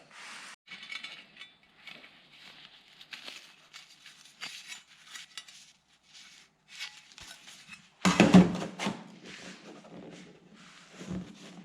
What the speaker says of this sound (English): Now I'm ready to cut this out of metal and also bend it to correct shape.